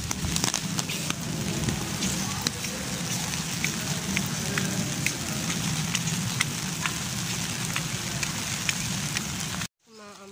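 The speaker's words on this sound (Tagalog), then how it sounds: "Kahit umuulan guys," Steady outdoor rain with dense pattering drops on surfaces, loud and continuous for about ten seconds before cutting off abruptly, with faint voices underneath.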